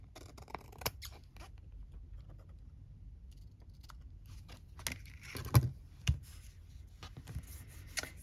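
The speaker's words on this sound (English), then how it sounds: "Snipping these bits off." Scissors snipping bits off antique postcards, a handful of quiet, sharp snips spaced irregularly, close up against a near-silent room.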